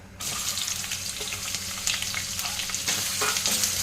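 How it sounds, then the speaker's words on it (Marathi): Sliced onion and a bay leaf frying in a pan, giving a steady close sizzle with intermittent scraping stirs throughout. "परतून घेणार आहोत चांगला कलर चेंज होईपर्यंत गोल्डन ब्राऊन होईपर्यंत"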